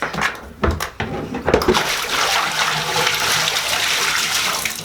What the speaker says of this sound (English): Okay, so I'm gonna dump out